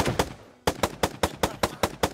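Rapid, evenly spaced shots from an AUG rifle in a Minecraft gun mod, about nine sharp cracks in quick succession after one opening shot and a short pause, loud and close with no talk.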